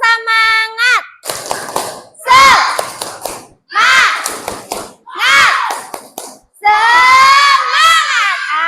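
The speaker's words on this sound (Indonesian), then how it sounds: "Kita tepuk semangat satu kali lagi. Ayo, tepuk semangat." A class of children performs the 'tepuk semangat' clapping chant, loud bursts of rhythmic clapping alternating with shouted chanting voices, led by a teacher's voice between rounds.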